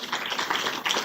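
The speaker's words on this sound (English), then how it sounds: "I want to invite everyone to clap for you" Audience at a book launch clapping together, a dense, steady patter of many hands at moderate volume that holds evenly for about a second.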